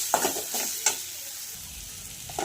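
Spice paste seasoned with turmeric powder and salt fries in a pan for vada pav filling, a soft steady sizzle broken by a few brief scraping stirs near the start and end, no talking.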